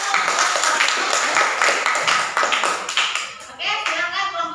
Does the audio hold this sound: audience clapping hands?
yes